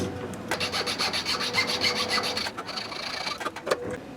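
A hand rasp files a wooden crankbait lure to round off its squared profile. Quick, rhythmic strokes scrape up close in a steady run, pause briefly, then resume in a few short passes.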